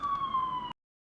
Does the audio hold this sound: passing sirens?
yes